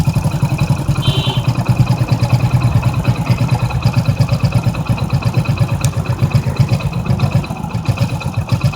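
A Hero Splendor Pro motorcycle engine idles steadily and loudly close by, a fast even putter with a faint mechanical clatter throughout and no talk.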